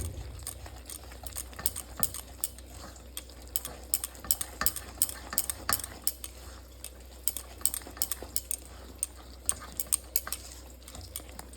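A spoon stirs salt, turmeric and water in a metal pot, giving quiet, irregular scrapes and clinks against the sides over a low steady background hum.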